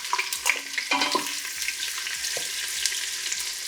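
Sliced onions frying in a pan for a mutton dish, a steady sizzle with some clinks and stirring knocks and no talking.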